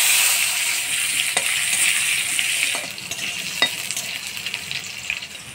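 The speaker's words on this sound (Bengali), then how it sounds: "এবার ফোড়নে দিয়ে দিব কালো জিরা" Nigella seeds sizzle in hot oil for tempering after bitter gourd has been lightly fried, giving a loud hissing crackle that eases after a few seconds, with occasional spatula scrapes.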